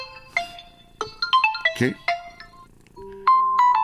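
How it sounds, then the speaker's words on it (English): Ringtones on an Oppo Find X7 Ultra phone play back in succession, short chiming melodic tones from the speaker, clear and close, ending in a sustained tone; a voice briefly speaks once. "let's see the ringtones"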